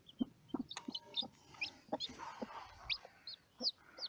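Hens cluck in short bursts among other chirpy bird calls, fairly close, with a busy farmyard background.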